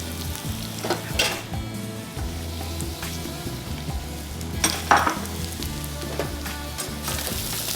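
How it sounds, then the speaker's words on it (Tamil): Papaya frying in oil with garlic, ginger and curry leaves, a steady close sizzle broken by a few clinks of a spoon stirring in the pan, with no talk over it. "பப்பாளி லேசாக ஃப்ரை ஆனதுக்கு பிறகு பூண்டு இஞ்சியும் சேர்த்துட்டோம்"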